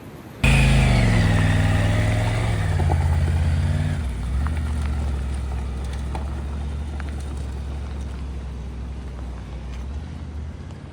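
A motorcycle cruising at high speed on a mountain road near Polvaredas, Argentina, its engine rising in a loud rev-like sweep at first, then settling into a steady roar with heavy wind rush.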